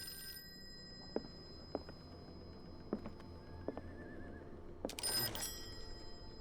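A telephone ringing in the Call of Cthulhu video game, a short bright ring near the end after a few faint knocks over quiet ambience.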